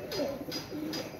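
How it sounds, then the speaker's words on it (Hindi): Pigeons at their loft give soft, close, throaty coos in a brief run of low, rolling calls. "ये देखें जी, ये मेरे डेरे वाले कबूतर जो हैं वो कबूतर हैं।"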